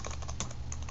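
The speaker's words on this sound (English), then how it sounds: "I'm going to create a file directly from the keyboard" Quick keystrokes on a Mac computer keyboard while typing at the command line, a brisk run of close, crisp clicks.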